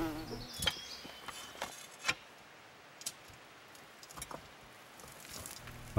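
A bee buzzing outdoors in the sun, faint, close passes alternating with quieter stretches, with occasional sharp clicks and taps in a quiet outdoor setting.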